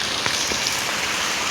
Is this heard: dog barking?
no